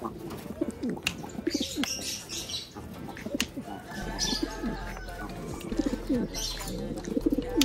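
Imported pigeons cooing close by in a loft, repeated soft throaty coos with scattered chirps and a brief wing flutter, with someone talking quietly at times.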